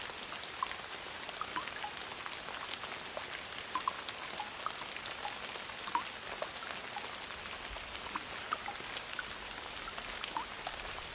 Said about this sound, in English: The rain softens once more, becoming a fine hush that drifts through the room like a whisper of night itself.